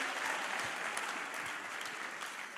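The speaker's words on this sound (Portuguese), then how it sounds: "Salva de palmas para minha mulher" Distant, fairly faint applause from a church audience, a continuous wash of many hands clapping for a couple of seconds without pause.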